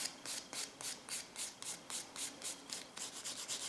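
A polishing file buffs a false nail tip in quick, steady back-and-forth strokes, about two per second, each a soft, close, raspy scrub repeated alone with no talking.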